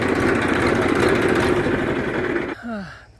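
A tractor engine idles and runs with a steady, loud rumble while stuck in reverse gear on a farm. The sound then drops and gives way to a brief higher tone near the end.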